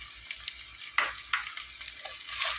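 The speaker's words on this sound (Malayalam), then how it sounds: "ഈ കാന്താരിയും പച്ചമുളകും ഇഞ്ചിയൊക്കെ നന്നായിട്ടൊന്ന് വഴന്ന് വരുന്നവർ നമുക്ക് വെയിറ്റ് ചെയ്യുക" Kanthari chillies, green chillies and ginger sautéing in hot oil for a hog plum pickle, giving a steady close sizzle with brief crackling spurts and faint stirring.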